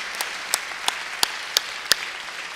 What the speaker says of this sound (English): let's have another round of applause for Chairman Pepper.